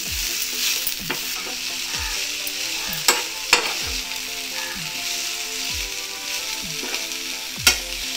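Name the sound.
mint leaves frying in a pan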